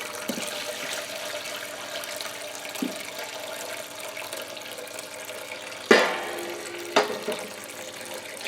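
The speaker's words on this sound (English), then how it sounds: "like so, and just pouring that in." Homebrew liquid, a lager mash being transferred, poured from one pitcher into another, giving a soft steady trickling splash throughout with a few sharper clunks and splashes near the end; close and fairly quiet, with no talking.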